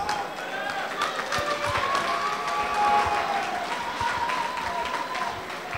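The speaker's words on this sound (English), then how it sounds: "a big round of applause for both fighters" An indoor fight crowd applauds both fighters after a bout, a steady wash of clapping with scattered cheers, fairly loud, while an announcer's voice carries over it.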